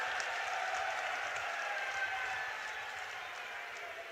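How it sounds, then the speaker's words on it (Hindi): Rally crowd at an open-air political event applauding the arrival of Narendra Modi, a steady, distant roar of clapping that fades slightly toward the end. "एक बार जोरदार तालियों के साथ स्वागत और अभिनंदन।"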